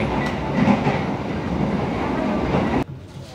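KA Brawijaya executive-class train running on rails between Malang and Jakarta, heard from inside the dining car as a continuous rumbling roll with faint clicks, then the sound drops suddenly near the end.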